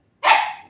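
A single sharp bark from Ace, a pet dog at home, loud and close, breaking out of silence and trailing off over about half a second.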